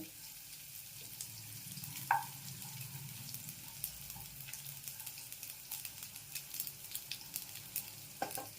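Nigella seeds and green chilies fry in hot oil for a dal tempering, a steady close sizzle broken by a few sharp spatters and light stirring clicks.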